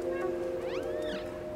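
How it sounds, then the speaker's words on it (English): A single cat meows twice in quick succession in the game Stray, rising and falling, over a steady low electronic hum. "Meow to attract enemies."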